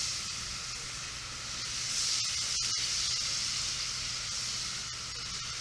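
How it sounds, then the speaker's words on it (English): Minced shallots sizzling as they brown in a hot pan, a steady bright hiss that swells slightly midway, with a few faint clicks. "Minced shallots. Those in there nice. Let them brown up."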